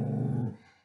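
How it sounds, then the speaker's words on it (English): A dog growls low and close, a short rumbling snarl that fades out within a second. "Ignore the dog."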